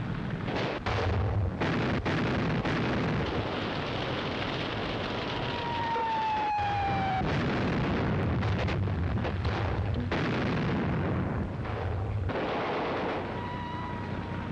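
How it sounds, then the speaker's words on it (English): Battleship artillery in a 1938 film thunders continuously, with heavy booming shell blasts and explosions layered over a dense rumble, and a whistling shell streaking through the barrage. "Battleships are opening up. We can't lie out here all night with the shells going places."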